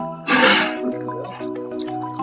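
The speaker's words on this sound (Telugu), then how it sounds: "నేను కొద్దిగా వాటర్ యాడ్ చేసుకుంటున్నాను" A splashy gush of water pours into a pot of country-style chicken curry, then settles into a low sizzling bubble with soft clinks.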